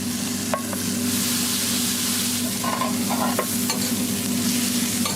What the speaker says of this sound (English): Then he fries an entire Angus burger patty